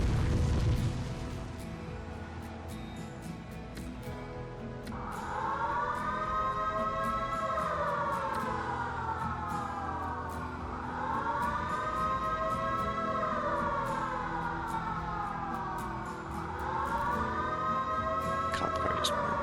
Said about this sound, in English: They got all the emergency services out there.